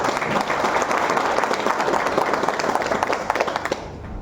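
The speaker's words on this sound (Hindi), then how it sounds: "एक बार अपने लिए आप तालियां बजा लीजिए।" Steady, dense applause from an audience at a motivational talk, loud and continuous for about four seconds before cutting off.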